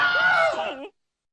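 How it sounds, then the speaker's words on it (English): The Wilhelm scream, the stock movie sound effect: one short, loud, anguished male scream that falls off and ends abruptly in silence. "That's the Wilhelm scream."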